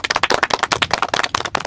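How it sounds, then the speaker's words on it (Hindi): A group of people clapping in a comedy skit, a quick run of sharp, near hand claps in an uneven rhythm lasting under two seconds. "अरे वाह बजाओ ताली।"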